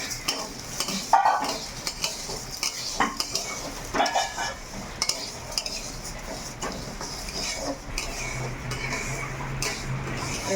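Lentils frying in hot mustard oil in a kadai while being stirred, with scraping utensil clatter and metallic clinks over a steady sizzle; close and moderately loud, with no talking.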